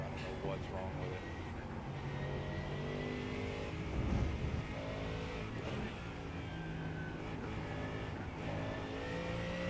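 A race car engine droning steadily in iRacing during an IMSA WeatherTech Sebring 12-hour race, a continuous hum with a brief swell of revs midway, heard at moderate level beneath people talking.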